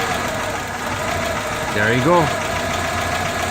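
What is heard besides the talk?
2001 Toyota Camry engine idle RPM dropping during EGR vacuum test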